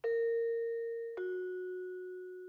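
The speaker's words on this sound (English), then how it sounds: "Oh no, doorbell. The sound of a doorbell." A two-tone ding-dong doorbell chimes in the horror visual novel Saihate Station. Two clear, bell-like tones sound one after the other, the second lower, each ringing out and slowly fading, with no voice.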